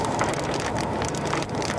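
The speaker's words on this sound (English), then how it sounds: "How big is this hail?" Hail pelts the ground and surfaces during a tornado-producing storm, a dense, constant rattling patter with close hard impacts and no voices.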